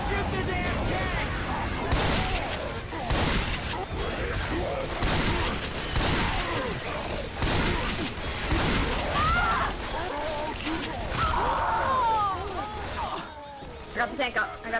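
Video game gunfire aimed at a tank: rapid bursts and crashing impacts roll on steadily, with excited players shouting and talking over the shooting throughout.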